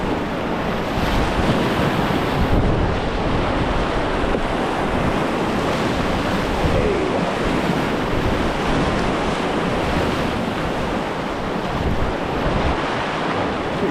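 River rapids roar as a steady, loud, broadband wash of rushing water, with wind buffeting the microphone throughout and no voices.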